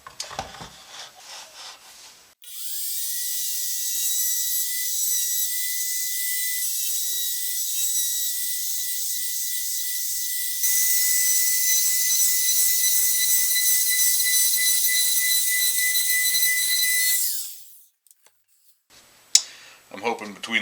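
A router bit cuts a radius into an oak fretboard held in a homemade jig, a loud, steady high whine with a constant pitched tone running about fifteen seconds, rising in intensity midway, then spinning down, with brief clatter before and after.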